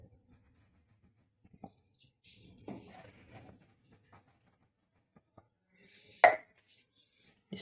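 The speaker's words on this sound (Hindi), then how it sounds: "कटर है, मैं इसके साथ इसको काट" A cutter presses through rolled doughnut dough on a kitchen surface, producing soft scattered taps and scrapes with a sharper clack near the end, faint and close, with quiet pauses between.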